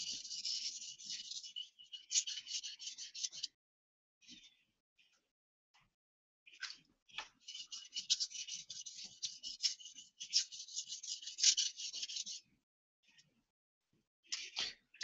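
A sword blade being touched up on the uraoshi against a sharpening stone, heard as soft, close rasping strokes in bursts of several seconds, separated by quiet pauses.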